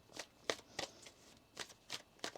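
A tarot card deck is shuffled in a series of crisp riffling bursts, about six quick papery ruffles at an uneven pace, close and soft with no talk.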